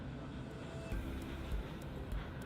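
A Qatar Airways Boeing 777 taxis out toward runway 34 at Melbourne Airport at night, heard as a steady, fairly distant engine drone with a few faint ticks and no voices.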